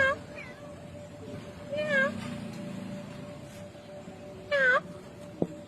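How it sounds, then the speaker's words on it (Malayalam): Kitten meowing near a pond with lotus flowers, a few faint, brief mews spaced apart over a low steady hum, with quiet voices in the background. "നമ്മുടെ താമരയുടെ അമ്പലിന്റെ അടുത്ത് നമ്മുടെ പൂച്ചക്കുട്ട എത്തിയിട്ടുണ്ട്"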